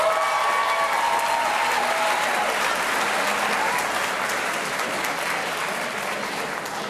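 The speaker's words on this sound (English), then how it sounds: "Please give a round of applause to Jessica Dow." An audience at a high school senior awards ceremony claps in sustained applause, dense and even from the start and fading slightly toward the end, with no voices over it.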